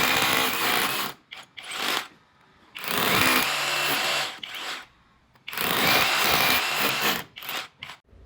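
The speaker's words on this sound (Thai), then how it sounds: "เดี๋ยวเราจะลองไปเจาะกำแพงกันดูนะคะ" An OSUKA cordless rotary hammer drill bores into a wall in three loud, harsh bursts of a few seconds each, with short pauses between them.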